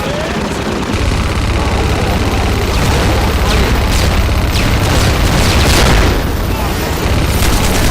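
An overpowered gun fires in Hunt Down The Freeman, loud rapid bursts and booming shots crackling over several seconds against a dense background of game noise.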